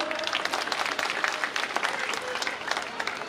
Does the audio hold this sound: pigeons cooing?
no